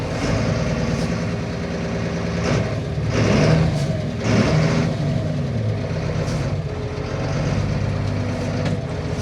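A 2006 Fendt 930 Vario TMS tractor engine runs steadily nearby, a loud, continuous rumble with slight swells in intensity and no voices over it.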